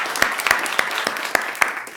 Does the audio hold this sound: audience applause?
yes